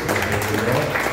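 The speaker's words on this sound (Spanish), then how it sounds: "Un aplauso a Dios" A church congregation claps in applause for God, a dense, even patter of many hands holding steady and fairly loud throughout.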